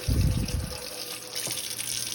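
Cold tap water runs into a freshly cleaned kitchen sink to fill it for rinsing strawberries, a steady rushing stream with a heavier low splash at the start, continuing close and even throughout.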